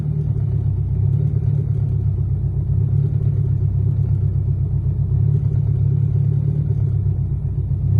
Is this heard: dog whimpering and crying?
no